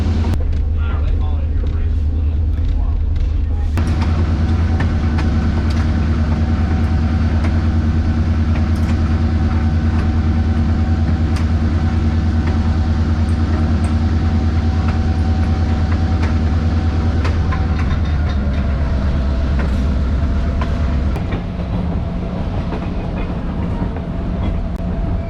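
Heritage train ride on the Southern Appalachia Railway Museum line behind an LHoist GP38-2 diesel locomotive built in 1977, with a steady loud rumble, droning engine tones and clickety-clack from the cars, while a person talks over it.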